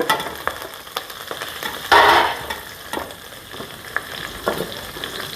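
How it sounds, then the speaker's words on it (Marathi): Shev bhaji masala with coriander is stirred in a hot pan, giving a steady sizzle broken by scraping and clinking strokes of the spoon, with one louder burst of frying near the start. "ते व्यवस्थित हालून घ्यायचं आहे"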